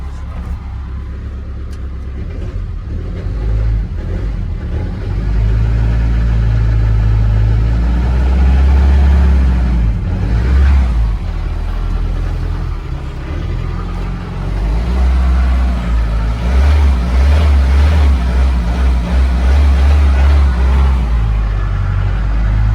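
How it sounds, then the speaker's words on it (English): A 2020 Mahindra ROXOR's engine is revved repeatedly from idle, the deep mid-range roar swelling and falling over several throttle blips, loud and close. "Let's give it some gas."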